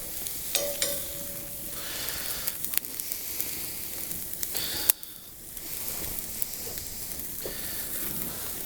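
Thick sika deer venison steaks sizzle gently in a hot pan, a quiet, steady frying hiss with occasional soft pops and stirring clicks, heard alone with no talk.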